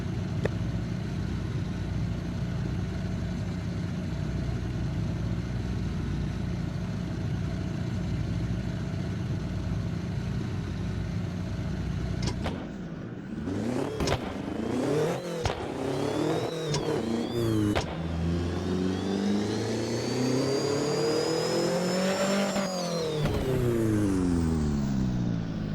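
Simulated car engine in Assetto Corsa, turbocharged from naturally aspirated, running on a dyno: a steady loud drone, then sharp revs rising and cutting off, followed by a long climbing pull that breaks off near the end.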